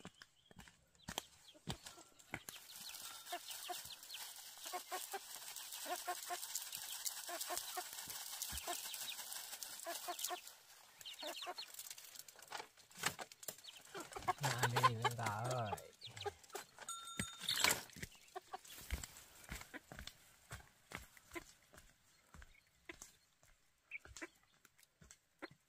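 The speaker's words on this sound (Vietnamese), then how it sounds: "Thả một con gà đó." Chicken clucking comes in short, scattered bursts amid broadband rustling and handling noise, with a clearer run of calls midway, at moderate loudness.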